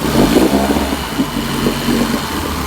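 An outboard motor runs steadily nearby with a continuous low, even drone and slight pulsing, no voices.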